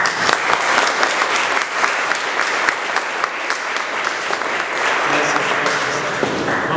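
Conference audience at a Marian lecture applauding a priest as he is welcomed, with dense, steady, loud clapping that fills the room and continues throughout without a break.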